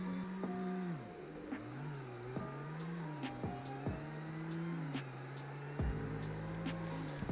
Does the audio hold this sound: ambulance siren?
no